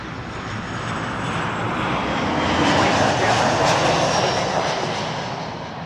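A WestJet airliner on approach to land at Toronto Pearson Airport roars past, its engine noise a broad, loud rumble that swells to a peak near the middle and then gradually fades.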